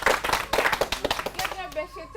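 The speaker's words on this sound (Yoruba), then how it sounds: "ẹ pàtẹ́wọ́." A group of people clap their hands during a Yoruba drama scene. The dense, rapid claps sound close and lively for about a second and a half, then fade out as a voice starts speaking.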